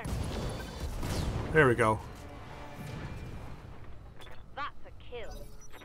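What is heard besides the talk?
weapon firing in RogueTech video game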